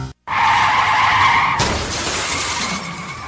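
A car skids with a long, loud tyre screech that ends abruptly in a crashing impact with shattering debris, as before a collision.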